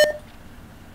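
A short electronic beep from the zombie road-trip video game Organ Trail, a single bright tone opening the moment and then dropping away to a quiet background hum.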